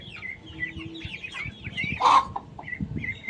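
Chickens and a rooster cluck and call at close range in short, irregular bursts, with one louder squawk partway through and steady low farmyard murmur underneath.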